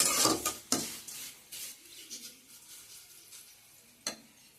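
Shredded potatoes for crispy jhuro aloo bhaja fry in hot oil over a low flame, added in small batches. A steady close sizzle runs throughout, broken by a few sharp clattering stirs near the start and one near the end, with no talking.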